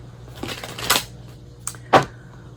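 Tarot-style cards being shuffled by hand: a few brief riffling and slapping bursts, close and moderately loud, separated by quiet pauses, with no talk.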